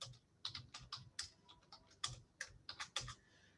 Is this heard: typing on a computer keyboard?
yes